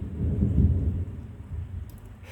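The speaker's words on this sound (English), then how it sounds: "Thunder." Deep rolling thunder rumbles loud and low, peaking early then trailing off into a long, fading growl with no voices.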